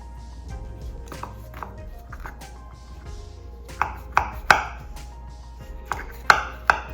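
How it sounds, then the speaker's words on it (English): A knife cuts through a tray of layered baklava, giving several sharp, crisp crunching strikes in the second half, with quieter scraping before them and no talk. "now we're gonna just cut it one more time"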